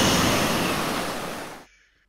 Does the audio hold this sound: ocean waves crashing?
yes